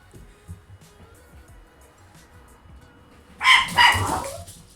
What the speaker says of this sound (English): sorry about those dogs